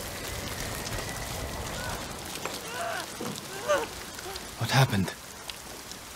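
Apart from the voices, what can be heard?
rain effect in Ghost of Tsushima video game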